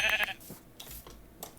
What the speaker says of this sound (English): Boy, this is a bunch of sheep.